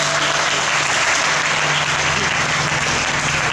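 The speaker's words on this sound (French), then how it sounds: "Merci beaucoup, on l'applaudit bien fort." Audience at a hypnosis evening show breaks into steady, dense applause, many hands clapping together at an even level throughout.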